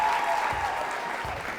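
Steady applause from a startup competition audience for the jury president, a dense wash of clapping that holds at an even level throughout.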